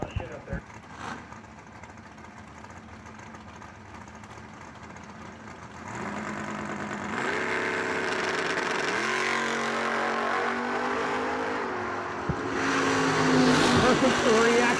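Door-car drag racing with a '67 Camaro and an Oldsmobile on the strip, engines idling and then building into a loud, sustained rumble that swells further near the end, under a track announcer's voice.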